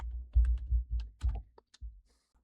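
Someone typing text on a computer keyboard: a short burst of heavy, uneven keystrokes with dull thumps and sharp clicks, close by and alone, ending with a few lighter taps.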